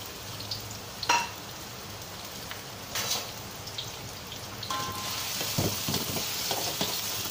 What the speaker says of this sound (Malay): jom kita tumis. Masuk halia, bawang putih, bawang, kulit kayu manis, buah pelaga,